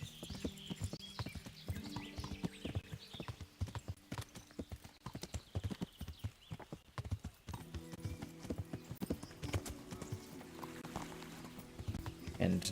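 Horse hooves clip-clop at a steady walking rhythm in the medieval video game Kingdom Come: Deliverance, crisp repeated knocks close by with an occasional snort, and someone talks over parts of it.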